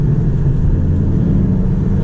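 Volkswagen Golf R engine downshifting, a steady loud low rumble with throaty engine drone filling the whole stretch, close and continuous without talk.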